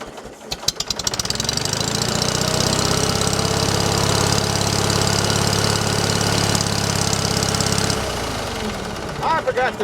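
A gasoline engine on a wood splitter runs steadily and loudly at close range, a rough droning idle after a few sputtering starting bursts, then drops in level near the end.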